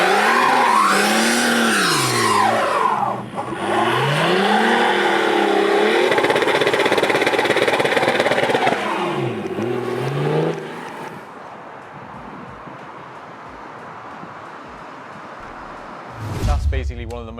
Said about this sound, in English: that's what happens if you want to do a burnout with an open diff